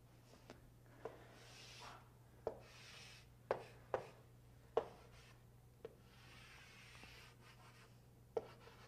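Someone draws a graph by hand, making faint, quiet scratching strokes broken by a series of short, sharp taps at irregular intervals, with no voices.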